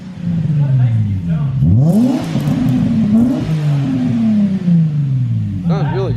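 A car with a newly fitted exhaust revs up repeatedly, its deep engine note rising and falling in loud close sweeps, with a voice briefly heard near the end.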